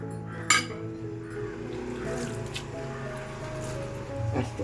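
A little water is poured into a mutton masala mix of coriander powder, chilli powder, salt and turmeric in a home kitchen, giving soft wet squishing and dripping sounds, with a clink near the start and a low hum throughout.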